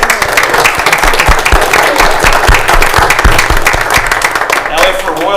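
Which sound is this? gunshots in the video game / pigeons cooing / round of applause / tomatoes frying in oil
round of applause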